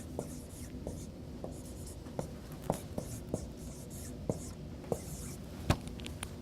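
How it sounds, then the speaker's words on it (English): A marker squeaks and taps against a classroom board while an answer is written, in short strokes with sharp clicks at roughly half-second to one-second intervals, close and clear, with faint speech in the background. "I'm going to write 21 up here and I'm going to just write the answer"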